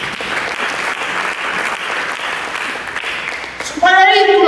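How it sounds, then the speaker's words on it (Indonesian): Steady applause from a large crowd at a church service fills the space, dense and even, before a voice cuts in over the end. "Berikan tepuk tangan bagi."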